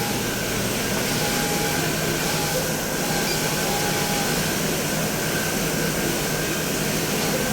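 An automatic bon pocket joining sewing machine starts up and runs with a steady, even mechanical hum and broad whir. The sound stays constant and close, with no talk over it.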